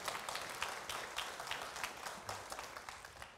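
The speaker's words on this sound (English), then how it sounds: "let's give him a round of applause" Church audience during a sermon applauding a guest invited up front, a fairly faint but continuous patter of many hands clapping, steady and unbroken, with no voices over it.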